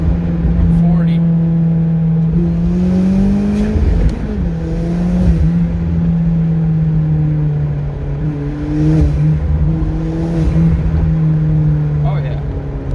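A 2.0 Genesis engine, fitted with a DIY engine leash, pulls hard in second gear, a loud steady drone rising in pitch, then dropping at a shift and climbing again, heard from inside the car.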